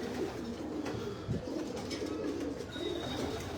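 Pigeons coo steadily in a low, throaty murmur on a rooftop loft, several birds overlapping close by with a faint higher chirp near the end and no talk.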